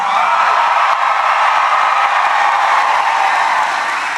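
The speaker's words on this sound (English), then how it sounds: "you are a loud crowd" A large crowd at an outdoor campaign rally in Charleston, South Carolina, roaring and applauding in a loud, sustained, even wash of cheering and clapping.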